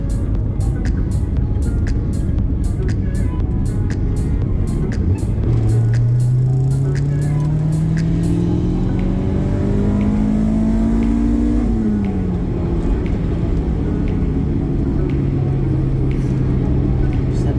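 A Honda Integra Type R driving on a road in the Algarve, with a steady engine drone and road rumble, then a rising pitch as it accelerates through a gear before easing back to a constant cruise.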